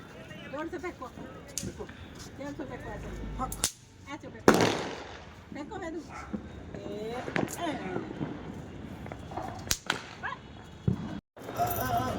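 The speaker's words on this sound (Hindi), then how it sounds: "अपने दादू और दादी के साथ पटाखे, पॉप पॉप वाले।" Small pop-pop firecrackers crack in scattered sharp bursts at a Diwali celebration, some close and loud, others fainter, over a background of people talking and outdoor noise.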